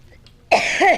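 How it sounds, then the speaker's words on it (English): A person at a commission meeting lets out a sudden loud cough after a quiet moment, followed by a second harsh, throaty cough close by. "You got one of them coughing leaving now."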